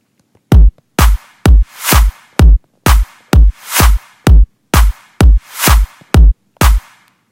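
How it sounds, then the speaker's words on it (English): Clap samples from a GarageBand future house track repeat in a steady beat, with reversed claps swelling up into several of the hits, so crisp sharp strikes alternate with rising whooshes, loud and alone. "And then I added a reversed clap."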